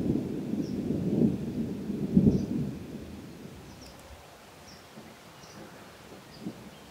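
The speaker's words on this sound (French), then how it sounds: "Il commence à pleuvoir." Low thunder rumbles early and then fades, leaving a soft steady hiss of rain in Provence with occasional faint bird chirps.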